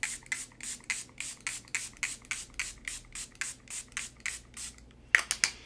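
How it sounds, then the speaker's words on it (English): Powder melt glass setting spray from a One Size makeup bottle, applied in a rapid series of about fifteen short rhythmic pump spritzes, close and crisp, followed by a few final bursts with no talking. "This is a powder melt glass setting spray."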